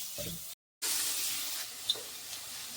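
Mackerel curry base being sautéed in a pan, giving a steady broadband frying sizzle with a short gap and a faint stir or clink partway through.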